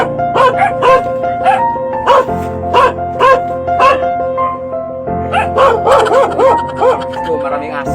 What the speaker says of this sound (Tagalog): Ito, maraming aso.